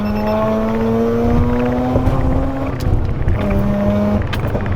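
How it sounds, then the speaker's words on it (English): A car, likely a rotary-engined Mazda such as an RX-7 or RX-8 on a mountain touge road, drones past with a steady engine hum and rising, shifting tones, fairly close and continuous throughout. "Car coming."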